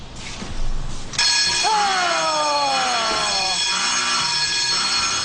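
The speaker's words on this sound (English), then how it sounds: "With the alarm ringing" A loud motion-detector alarm rings steadily with a shrill tonal pitch, starting abruptly after a brief muffled sound and sustaining through.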